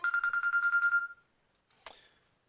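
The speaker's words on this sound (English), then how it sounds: "Phone's already ringing." A telephone rings in a rapid electronic trill lasting about a second, then a short fainter burst of a second ring follows; nearby and clear, with no talk over it.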